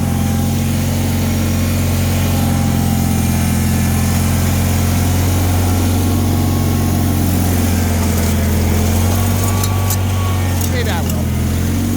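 A Bolens HT-23 garden tractor engine runs steadily while blowing snow, a continuous low droning hum that holds for the whole stretch, with someone talking over it.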